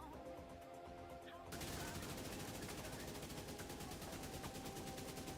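An AK assault rifle fitted with the Striker gear set fires in The Division 2, a sustained rapid burst of loud, evenly spaced automatic shots that starts abruptly after a quieter stretch and continues to the end.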